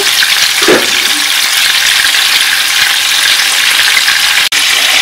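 Mixed prawns fry in a pan with a loud, steady hiss and crackle up close, one brief dull knock near the start, and a sharp cut near the end.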